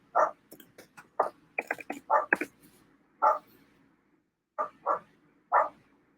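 Dogs bark in the background of a quiet room, a string of sharp, mid-distance barks in irregular bursts, some quick doubled yaps, with short pauses between.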